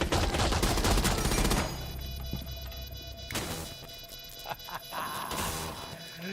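Gunfire in a video game shooting at a bomb diffuser, with a dense burst of rapid shots up front followed by scattered sharper cracks and impacts over continuing game noise.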